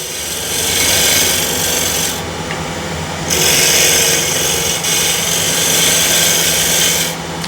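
Sandpaper held against spinning wood on a woodturning lathe gives a steady, loud abrasive rasp with a motor hum beneath, broken by short pauses where the paper lifts off before rubbing resumes.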